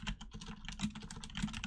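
Rapid, uneven clatter of keys on a computer keyboard, close and fairly loud, with a couple of sharper key strikes standing out over steady typing.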